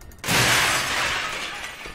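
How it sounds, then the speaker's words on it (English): An object smashed in the open-world action game Sleeping Dogs: a sudden loud crash of shattering, glassy debris that starts abruptly and decays over about two seconds, with no talking. "Smashing shit."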